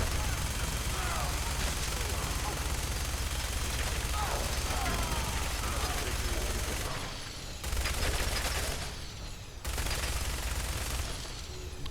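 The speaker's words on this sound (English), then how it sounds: "Taking fire." Rapid gunfire crackles through a firefight in Fallout 4, bursts of shots rattling continuously under game sounds, then dropping out in short gaps near the end.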